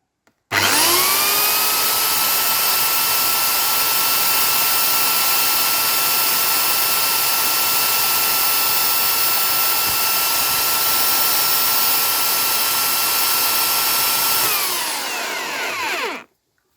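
Power saw running at full speed under a laser tachometer RPM check: a steady, loud whining motor drone that starts abruptly, holds for about fifteen seconds, then winds down.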